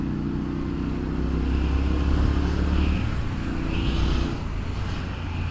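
A steady, deep throbbing engine drone from a 2021 Triumph Street Scrambler on the move holds at a lazy cruising pace with a slight swell midway, loud and close with no talk.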